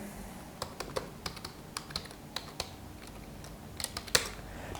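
Keys on a computer keyboard tapped while C code is typed, a series of sparse, crisp clicks at an uneven pace, fairly close and alone in a quiet room.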